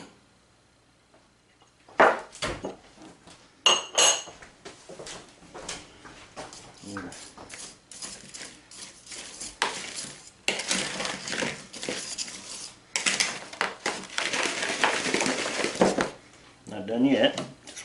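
Brown sugar being broken up in a bowl with granulated white sugar and flour, with scraping, crunching and clinking of a utensil against the bowl in bursts, fairly close.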